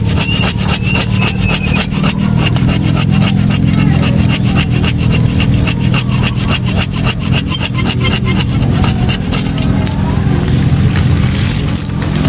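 A hand saw cuts through a Premna microphylla bonsai branch in loud, close, rapid back-and-forth strokes that keep a steady rhythm for about ten seconds before easing off.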